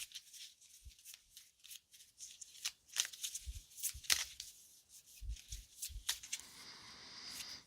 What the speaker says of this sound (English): Now let's pull a couple tarot cards.